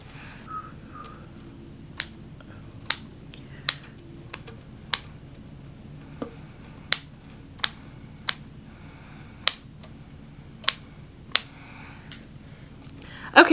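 Plastic netting for a DIY moss pole is snipped with a series of about a dozen crisp, evenly spaced cuts, close by over a quiet background.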